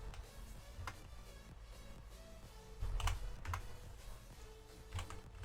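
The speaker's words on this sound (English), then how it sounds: "I'm just gonna type it, I don't care." Quiet, rapid keystrokes on a computer keyboard in irregular bursts, soft clicks and taps clustered around the middle, close but faint over low room hum, with no speech.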